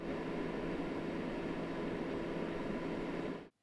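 Steady broadband whoosh of an Eight Sleep Pod 3 hub's fan running hard while cooling to minus 10, loud and constant with no talk, cutting off abruptly at the end.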